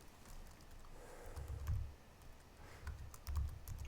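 Keystrokes patter on a computer keyboard in quiet bursts of quick clicks, with a few heavier taps, close and faint, with no talk.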